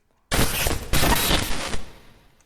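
An EMP bomb explodes in the video game Garry's Mod, a sudden loud burst with a sharp second hit, crackling for about a second and a half before fading out.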